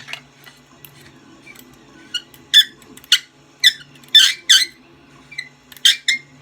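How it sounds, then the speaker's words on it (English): Threads of a brand-new anodized lightsaber hilt squeak as it is screwed back on, a string of short, sharp, close squeaks in irregular bursts over quiet background hum. "When that anodizing wears off the threads, it will stop squeaking like that."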